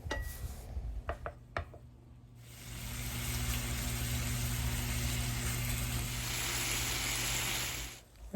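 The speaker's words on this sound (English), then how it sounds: "we're just gonna toss them in our pan for a few minutes just so they turn a little pink" Shrimp tossed into a hot pan: a few clatters and knocks at first, then a steady, fairly loud sizzle that holds for several seconds before fading, with no talking.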